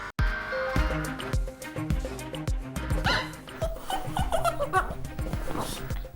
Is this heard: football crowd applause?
no